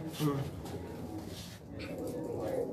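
A breeder's pigeon coos softly nearby, a low continuous throaty murmur under light background noise.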